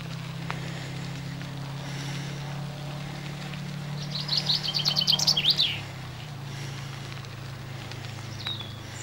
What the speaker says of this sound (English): Lovely and peaceful, all the birds whistling.